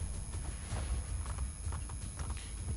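Horse hooves clip-clopping in Assassin's Creed: Brotherhood, a steady rhythmic beat of galloping over a dense, muffled low game rumble, with no voices.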